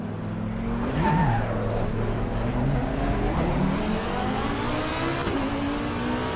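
A GT race car laps a track in Assetto Corsa Competizione, its engine droning steadily with rising and falling revs through gear changes and tires squealing under cornering, loud and continuous throughout.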